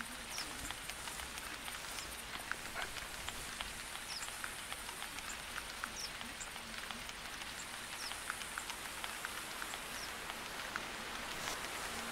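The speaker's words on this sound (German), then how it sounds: "Jetzt finde ich gut, dass es regnet," Rain falls steadily in the hunting game theHunter. It makes a constant, soft patter of drops hitting surfaces that carries on evenly and stays fairly faint throughout, with no voices.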